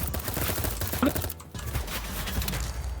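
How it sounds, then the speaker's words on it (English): Dense, continuous gunfire and repeated grenade explosions in the video game BattleBit pile up for the whole stretch, a loud chaotic barrage with no pauses and no voices. "You can already hear the grenade spam."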